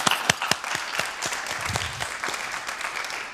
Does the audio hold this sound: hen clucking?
no